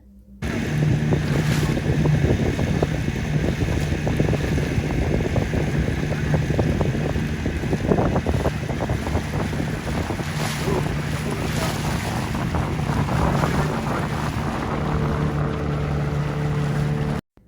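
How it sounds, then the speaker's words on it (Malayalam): Fishing boats heading out near a harbour and lighthouse, with a steady drone of engines, water and heavy wind buffeting the microphone throughout. "ഇത് മറ്റ് വള്ളങ്ങളാണ് കേട്ടോ, ഫിഷിങ്ങിന് തന്നെ പോകുന്നത്."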